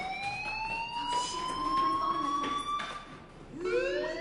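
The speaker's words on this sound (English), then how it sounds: "do you hear that fire alarm?" A fire alarm in a video game sounds a sustained, steady electronic wail that holds, dips briefly and then resumes, heard clearly with faint talk in the background.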